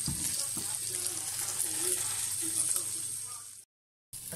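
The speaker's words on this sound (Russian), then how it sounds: "Вот и здесь поджариваем" Speck fries in a pan for a smoked pasta dish, a soft continuous sizzle and crackle with faint stirring, fairly quiet, cutting briefly to silence near the end.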